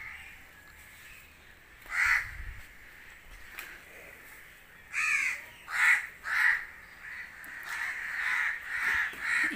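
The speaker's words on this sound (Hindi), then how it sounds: "यहाँ पे गांव में कौवे बहुत ज्यादा हैं।" Crows cawing in a village, with several harsh caws in irregular bursts, some close and loud and others farther off, over a quiet outdoor background without speech.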